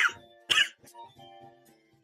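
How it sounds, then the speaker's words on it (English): A man coughs twice in quick succession, close and fairly loud, followed by a short throat-clearing rasp and some breathy vocal noise. "And my fucking cough too."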